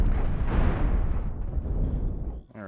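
Spaceship cannons firing in the space-combat game Cosmoteer, a dense, continuous rumbling barrage of blasts that fades out near the end.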